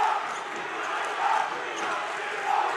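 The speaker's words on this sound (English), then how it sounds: "This crowd starting to get crazy." A high school basketball crowd in a gym between the Huntsville Hornets and Montgomery Bears roars steadily, a broad wash of cheering with rising shouts that swell in waves, fairly distant and reverberant.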